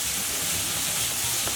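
Prawns frying in a hot pan being tossed for Chinese special fried rice, a continuous bright sizzling hiss, steady and close with no voices.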